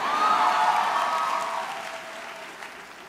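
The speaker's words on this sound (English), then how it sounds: "Can you give me three claps if you're ready to graduate?" A graduating class and crowd at the Merrillville High School 2013 graduation break into loud, sustained applause with a faint whistle, which gradually tapers off rather than landing as three separate claps.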